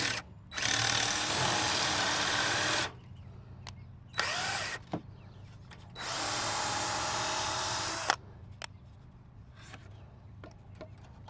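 Power drill driving into a wall stud while building a chicken coop, in two long sustained whirring bursts separated by brief pauses and small clicks, close and loud.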